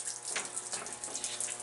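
Water stream leaking in through a patch in a tight space, a steady close hissing gush of running water throughout, fairly faint, with no talking.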